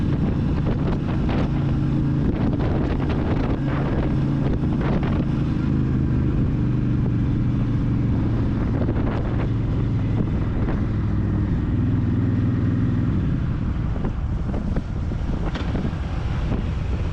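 Heavy wind buffeting the rider on a 2021 Honda Fury motorcycle with a 1312cc liquid-cooled V-twin: constant loud roaring rumble against the microphone throughout, with the engine's low drone underneath, steady and close.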